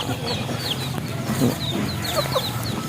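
Hens cluck repeatedly amid a busy farmyard, with scattered chirps and bird calls layered over steady background noise.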